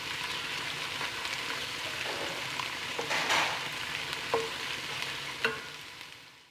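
Garam masala fries in oil for a tomato mutton curry, a soft steady sizzle with occasional stirring clinks and scrapes, close and fairly quiet, with no voices.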